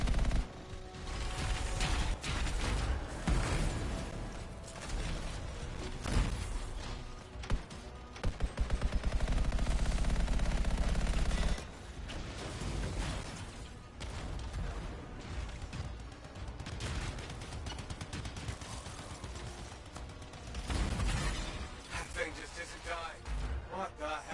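Heavy weapon fire in the video game Anthem, dense rapid bursts and sustained volleys with mechanical clanks, loud and up front, while players talk over much of it.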